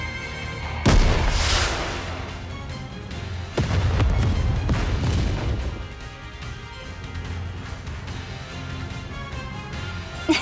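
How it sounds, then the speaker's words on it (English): A flame explosion in the video game Nikke: Goddess of Victory lands with a sharp blast, a second booming burst follows a few seconds later, then a rumbling tail fades under the continuing soundtrack. "What an explosion!"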